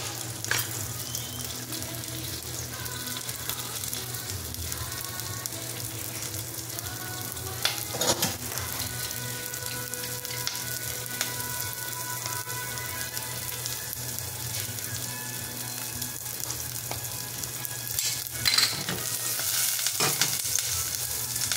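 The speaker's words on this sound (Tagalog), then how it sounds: "lagyan ko ng garlic. Okay? Tapos onion. Igigisa natin yan." Garlic and onion sauté in a pan for an orange sauce, hissing in a low, even sizzle that runs on steadily with occasional scrapes and light clinks from a spoon.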